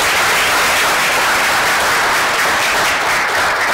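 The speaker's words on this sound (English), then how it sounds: "A round of applause for them again." Loud, dense applause from a live audience at a masterclass event, a continuous roar of many hands clapping close and steady from start to finish, with no talk over it.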